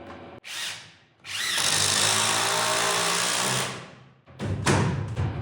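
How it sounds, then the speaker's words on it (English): Power drill driving a long timber screw through a wooden block into a garage roof truss, a close, steady whine lasting a few seconds, then short bursts as the screw seats, with no talk. "we'll use a longer timber screw to make it through our block and into the truss"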